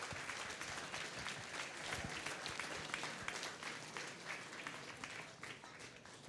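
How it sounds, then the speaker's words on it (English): Sustained round of applause from the audience at a 2017 trainee course graduation ceremony, steady dense clapping filling the hall throughout, fairly distant and even in level. "can I get another big round of applause, please, for Trainees Course T1"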